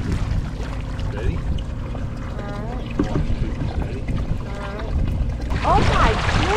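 Many fish splashing at the water's surface beside a boat at night, heard as scattered wet splashes and a burst of churning near the end, with people talking over it throughout.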